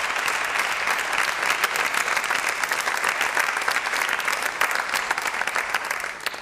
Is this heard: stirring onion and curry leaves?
no